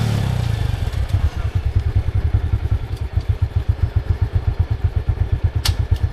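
A motorcycle engine thumps at a steady, rapid idle-like rhythm close by, loud low pulsing beats with some rattling clatter over the top, no voices present.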